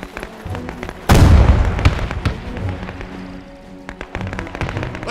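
Cannon fire and explosions in the Men of War 2 game, in a Normandy mission set among ruins: a loud blast hits at once, rolls off, and is followed by scattered sharper bangs and crackles over steady battle rumble.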